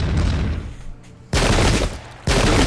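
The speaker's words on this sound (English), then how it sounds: "They're opening fire on us." Enemy musket volleys crack out in Pike and Shot Campaigns, two loud bursts of massed gunfire with a rumbling tail from an earlier volley, close and dominant with no talk.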